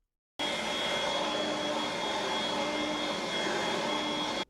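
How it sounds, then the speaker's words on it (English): A vacuum cleaner starts abruptly and runs at a steady, loud, unbroken whine with a constant tonal hum, then cuts off at the very end. "How can this dog chill when the fucking vacuum cleaner is on him?"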